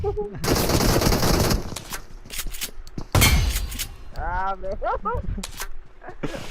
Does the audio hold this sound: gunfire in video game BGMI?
yes